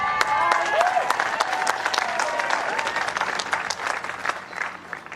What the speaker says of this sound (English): Crowd really getting into this